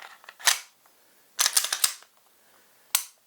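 The slide of a Caracal Enhanced F pistol is fitted onto its frame during reassembly, giving three short, sharp metallic clicks and scrapes close by, with the middle burst a quick rattling cluster.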